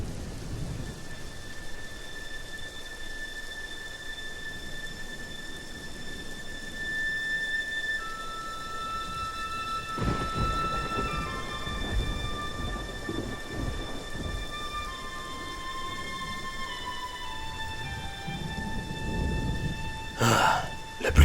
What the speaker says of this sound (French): Ah, la pluie cesse.